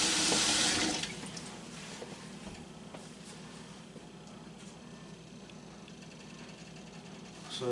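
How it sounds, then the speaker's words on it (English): Water from a kitchen tap runs steadily into a pot for a ham and lentil soup, beginning with a louder splashing burst before settling into an even, close pour. "We'll do 12 cups of water."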